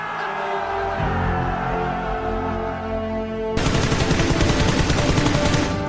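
Automatic gunfire in PUBG Mobile rattles loud and close, a rapid continuous burst that intensifies sharply partway through over a steady game background tone.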